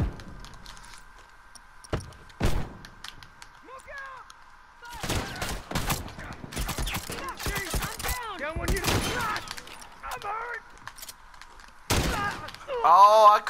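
Shotgun blasts from a first-person shooter match, a few sharp bursts scattered among other gunfire, with excited players talking throughout.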